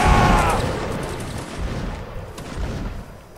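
Musket line volley fire in Mount and Blade Napoleonic Wars, with a loud ragged crash of many shots at the start, then scattered nearby and distant musket reports rolling on through the battle.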